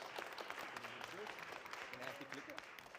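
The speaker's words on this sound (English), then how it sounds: "Give a round of applause for Nico here." An audience applauds a presenter at a startup pitch event, a faint patter of clapping running under a speaking voice.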